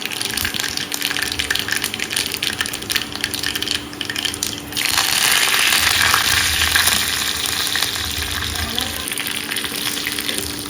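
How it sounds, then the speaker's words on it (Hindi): Tempering spices crackle and sizzle in hot oil for coconut chutney in a home kitchen, a dense continuous frying hiss that swells louder partway through, close with faint background noise. "इधर अब हम चटनी में तड़का लगा देते हैं।"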